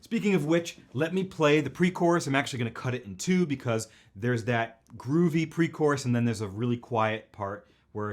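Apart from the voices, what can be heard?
No everyday noises stand out.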